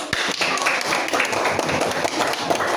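Schoolchildren in a classroom clap for a group of classmates, a close, loud burst of uneven hand claps with some thumps and taps mixed in.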